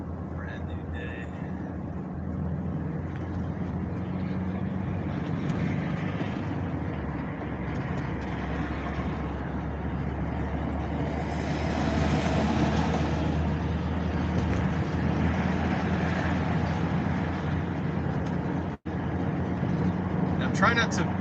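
A car with a new engine cruises on a freeway, giving a steady drone of engine and road rumble that swells slightly midway, with a brief dropout near the end.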